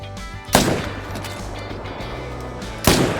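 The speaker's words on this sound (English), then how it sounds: "take a shot on this moose that's about 200 meters out" Two sharp, loud rifle shots about two seconds apart ring out over outdoor ambience while hunting moose at roughly 200 meters in theHunter: Call of the Wild, each crack decaying into a brief echo.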